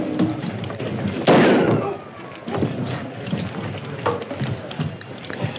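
Gunfire in a 1938 Western film rings out as a loud sharp burst followed by a few fainter scattered cracks, with voices and background commotion around them.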